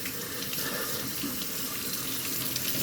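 Water from a sink tap pours steadily over a person's arm, a continuous close hiss and splatter at an even level, with no speech during it.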